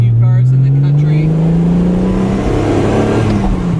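A Porsche 914 fitted with a Subaru EZ30D flat-six and gearbox taken from a Legacy sedan revs up, its engine note climbing steadily and loud, with people talking over it in pouring rain.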